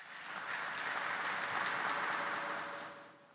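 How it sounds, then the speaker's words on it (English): A lecture-hall audience at a university public lecture gives a steady round of applause for the keynote speaker, dense clapping rising quickly, holding evenly for about three seconds, then fading out. "Please, can we celebrate him with a round of applause?"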